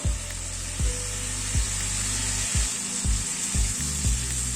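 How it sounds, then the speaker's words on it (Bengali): Coconut and coriander masala frying in a pan, a steady hiss broken by regular low thumps of a spoon or spatula about every half second, close and fairly even. "এবার এই মশলাটা দিয়ে একটু কষিয়ে নেব"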